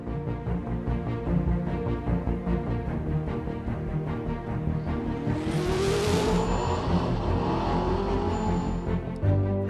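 A Venom GT supercar screams through a hard acceleration on its top-speed record run at the Kennedy Space Center, its loud engine note climbing steadily in pitch with a rising whoosh of wind and passing roar midway.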